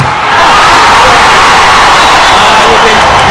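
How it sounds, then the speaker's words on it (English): A packed arena crowd at a Chennai versus Ahmedabad volleyball match roars and cheers, a loud, dense, continuous wall of voices that fills the whole moment. "the noise of the crowd tells you who is on a roll tonight"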